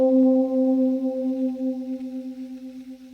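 A one-shot chord key patch in Logic Pro on iPad rings out a single sustained synth chord, bright and steady at first, then pulsing softly as it slowly fades with a reverberant tail.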